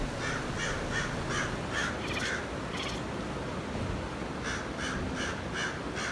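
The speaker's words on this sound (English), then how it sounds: "She's talking to the crow, who is harassing her in the tree." A crow up in a tree caws repeatedly in short bursts of two to four harsh calls, moderately distant, with a faint outdoor background and no talk.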